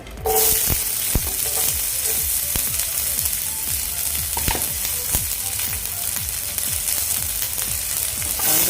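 Onion hitting oil in a pan for katachi aamti, a sudden loud burst of sizzling that settles into a dense, steady fry with rhythmic spatula stirs, close and without speech.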